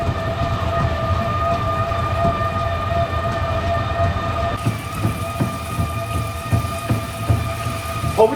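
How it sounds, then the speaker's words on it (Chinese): A rain device on a homemade immersive cage treadmill sprinkles water, making a dense patter of drops that grows busier partway through, over a steady mechanical hum with sustained tonal whine, close and unbroken. "打开这个开关，就能模仿下雨的情景。"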